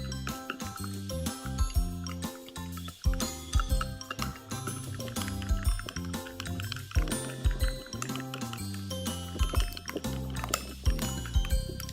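Glitter glue being stirred with a little added water into a thick mixture, giving busy clinking and sloshing sounds with liquid pouring noises throughout, close and steady.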